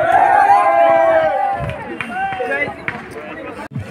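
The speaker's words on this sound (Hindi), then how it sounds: "कितनी भीड़ है." Crowd of people at a park by Manasbal Lake in Kashmir, a busy babble of voices with children's shouts and cheers rising over a steady din, close and fairly loud throughout.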